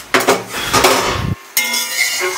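A metal lid clatters onto a cooking pot holding an eggplant and parshe fish curry, two bright clanking contacts a moment apart, loud and close, with no voices.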